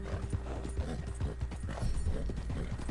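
A horse trots in the video game Red Dead Redemption 2, its hooves making a quick, even clip-clop rhythm at close range over a low, steady background.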